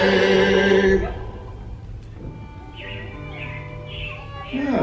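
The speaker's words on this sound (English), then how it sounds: "it looks like the Robins are getting ready to celebrate Valentine's Day today" Robins chirp outdoors in a short run of faint, repeated high calls, following a brief burst of voice and background noise at the start.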